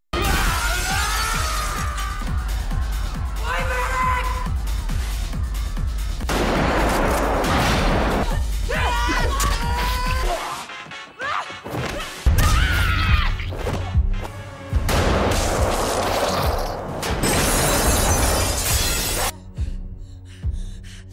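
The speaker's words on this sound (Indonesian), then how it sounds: "Ketika suara tembakan berhenti" Dense bursts of rapid gunfire mixed with crashing, shattering glass, loud and sustained, with brief lulls before more volleys and breaking debris.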